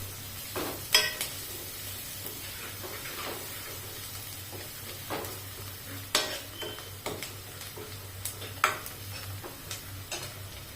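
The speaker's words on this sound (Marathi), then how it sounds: "गरम मसाला एक चमचा धना पावडर एक चमचा हे मसाले परतवून घ्यायचे" Garam masala and coriander powder sautéing in a pan for dal palak, heard as a soft steady sizzle with intermittent clicks and scrapes of stirring, a low hum underneath and no talking.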